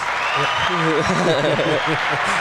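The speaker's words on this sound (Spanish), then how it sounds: "Gracias por los aplausos." Audience applause greets a guest arriving on a beauty and hairstyling podcast, a steady wash of clapping running the whole time beneath a voice speaking over it.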